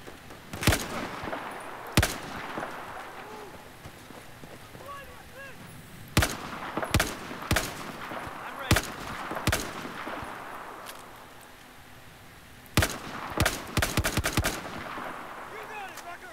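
Battlefield 4 gunfire cracks out in loud, sharp bursts and single shots, clustered with quiet gaps between, some rapid volleys near the end, over a low ambient game background.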